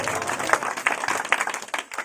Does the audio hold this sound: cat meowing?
no